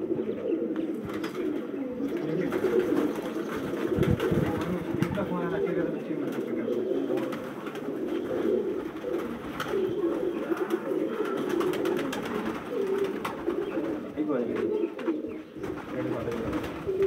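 Several low flyer pigeons coo repeatedly in low, throaty murmurs, close by at a pigeon breeding setup, with faint voices and rustling in the background.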